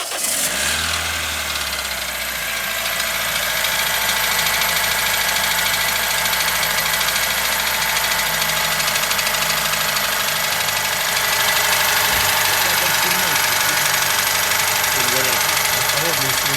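A Toyota 2SZ car engine starts and then idles with a knocking fault, a close, loud, steady mechanical rumble that runs throughout.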